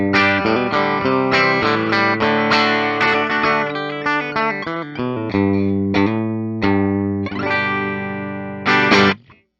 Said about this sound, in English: let's go ahead and demo the tones of a P94 pickup